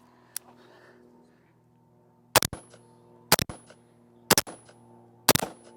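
Four sharp rifle shots ring out about a second apart while checking the zero of a dot sight from roughly 20 yards, each a loud crack with a short decaying tail, following a faint earlier pop.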